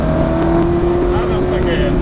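A Ferrari or Audi supercar on a track drive day gives off a loud, close, steady engine drone that climbs slightly toward the end as it accelerates.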